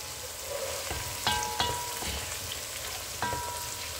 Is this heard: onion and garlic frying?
yes